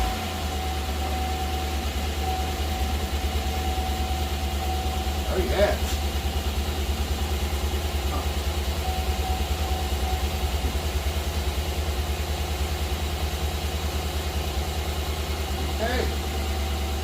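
A Chevy 5.3 V8 idles steadily after an AFM delete with no belt or accessories fitted, a low, even hum running throughout with a couple of brief sharper blips; a voice briefly speaks over it.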